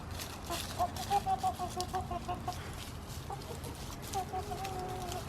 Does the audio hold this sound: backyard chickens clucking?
yes